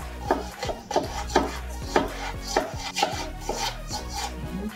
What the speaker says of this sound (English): The onions, also you can chop it.